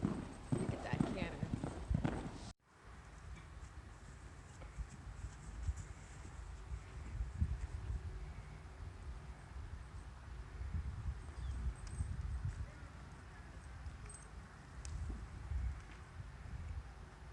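A Thoroughbred canters nearby, its hooves thudding in a steady three-beat clip-clop over wind noise on the microphone, with a voice talking over the hoofbeats.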